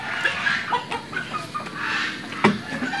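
Close, chattering clucks from chickens come in quick irregular bursts, with one sharper squawk near the end.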